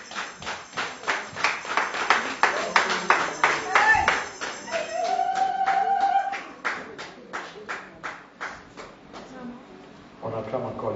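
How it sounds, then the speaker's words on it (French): Applause from guests at a wedding ceremony, a dense run of claps sustained for several seconds under a voice and music, thinning near the end. "Put your hands together."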